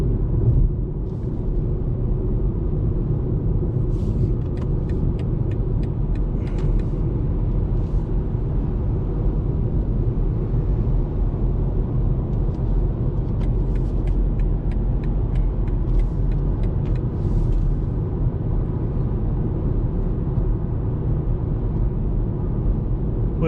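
Inside a 2020 BMW 118i cruising at almost 100 km/h with the radio off, a steady low road and engine rumble drones on unbroken, with faint ticking sounds now and then.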